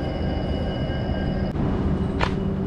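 AC 2 tier train coach running toward New Delhi, a steady loud rumble and rattle of the rolling carriage with a brief squeal of a passing sound, no voices.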